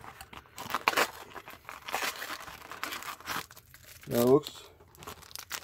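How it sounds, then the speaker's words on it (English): Cardboard rips and crinkles as a sports trading card box is torn open by hand, in a few short, close bursts, while a person talks briefly. "Let's just rip this box apart."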